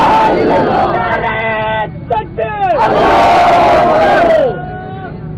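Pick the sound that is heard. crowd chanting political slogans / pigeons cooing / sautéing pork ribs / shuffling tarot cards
crowd chanting political slogans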